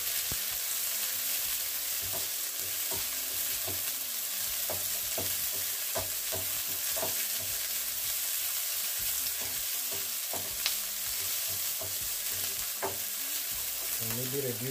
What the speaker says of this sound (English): I'm going to add my capsicum. Then it can cook together with my onions.